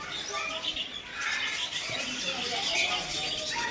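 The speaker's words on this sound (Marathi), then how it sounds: "खूप सुंदर सुंदर कलरचे पक्षी आहे सर्व." Colourful birds chirping in short, scattered tweets at moderate distance over a busy background hum, with faint voices nearby.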